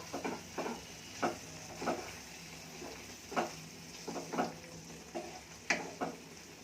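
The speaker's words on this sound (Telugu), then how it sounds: "ఒకసారి అంతా తిప్పుకుందాము" A spatula stirs tomato curry frying in oil in a pan, with soft scraping strokes at irregular intervals over a low, faint sizzle.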